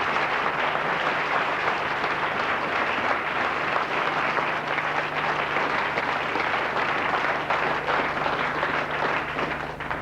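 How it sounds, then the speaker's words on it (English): Office staff at a daily 8:15 a.m. morning conference give their managing director a round of applause: dense, continuous clapping from many hands, sustained and loud from start to finish with no talking. "just as regularly give their managing director a round of applause"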